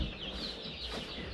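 Commercial layer chickens in a brooder house keep up a continuous chorus of clucking and chirping, a dense, even murmur with no standout calls.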